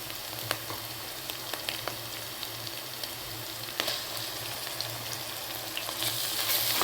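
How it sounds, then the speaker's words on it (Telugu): Ginger garlic paste sizzles and fries with onions in a pan for a Nellore-style chapala pulusu fish curry, a steady close hiss with scattered crackles and pops, no talking. "ఆనియన్స్ ఫ్రై అయిపోయినాయండి. ఇప్పుడు ఇందులో మనం అల్లం వెల్లుల్లిపాయ పేస్ట్ యాడ్ చేసుకున్నామండి."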